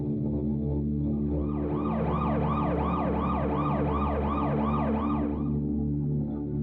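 Wailing police and ambulance sirens used as a sound effect in a horror radio drama, several sweeping rises and falls repeating steadily over a low rumble, loud and close, with no talking.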